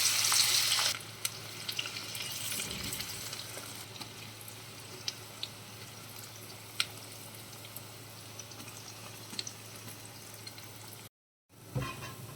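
Amaranth leaf pakoda batter frying in hot oil, a steady close crackling sizzle with small pops throughout, briefly cutting to silence near the end before resuming.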